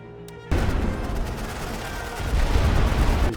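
Machine gun fire in the Great War trench shooter Elite Great War on the Western Front, a sudden loud burst of rapid gunfire that rattles on continuously after a brief quiet start, with distant booms mixed in.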